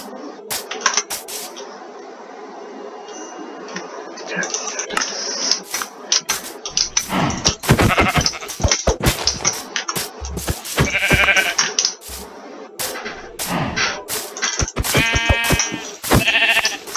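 Repeated sheep bleats from a game mix with clinking, coin-like pickup sounds and clicks, fairly loud and busy throughout.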